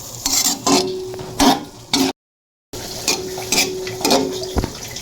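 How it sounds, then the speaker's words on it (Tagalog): Buffalo meat stew seasoned with pepper is stirred in a pot, giving repeated scraping, clinking strokes in a steady rhythm, close and fairly loud, broken by a brief gap of silence. "Halu-haluin muna."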